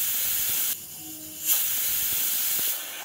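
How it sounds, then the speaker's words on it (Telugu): A pressure cooker cooking pappu pongali vents steam in a loud, steady hiss, cuts off briefly, then bursts back into a strong rushing whistle close by. "కుక్కర్లో 2 విజిల్స్ వచ్చే వరకు ఉడికిద్దాము"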